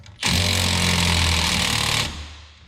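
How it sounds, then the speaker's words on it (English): An impact wrench drives a steering wheel puller on a John Deere 4630 tractor in one loud, close burst of rattling hammering that lasts about two seconds, then cuts off and fades. "I'm just going to try running the puller with a little impact and see how it goes."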